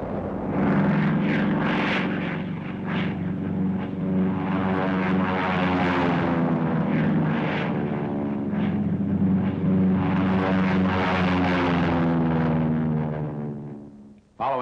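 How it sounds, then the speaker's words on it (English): American P-47 fighter-bombers in a dive-bombing attack on dug-in fortifications, 1945: a loud, steady propeller-engine drone with rising and falling pitch, sustained throughout and cutting off at the end. "The attack is spearheaded by dive-bombing American P-47s."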